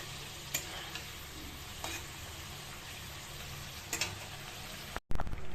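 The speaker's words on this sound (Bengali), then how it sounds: "এখন এই যে পটলটা ভাজবো" Pointed gourd (potol) frying in a pan, a soft steady sizzle with a few light spatula taps and scrapes, fairly quiet and close, ending in a brief cutoff and a louder burst.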